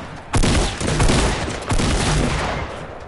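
Loud, close gunshots in the video game Fortnite, with a heavy blast early on and a second volley later. Both ring out over dense, noisy game sound.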